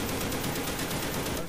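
Rapid automatic gunfire from the Call of the Dead video game, a dense continuous stream of shots filling the moment with no voices.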